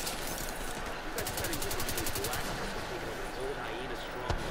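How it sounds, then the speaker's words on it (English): Rapid bursts of automatic gunfire in the video game The Division 2, a dense rattling volley lasting about a second and a half, followed by scattered distant shots within a busy game soundscape. "You hear that gunfire?"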